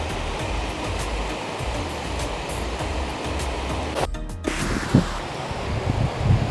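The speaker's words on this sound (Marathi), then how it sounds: "तुम्ही बघू शकता बाजूलाच ही नदी वाहते." A river flowing beside a small riverside temple of Kalkai Devi, a steady nearby rush of water with a rustle of wind, and a short clatter of handling noise near the end.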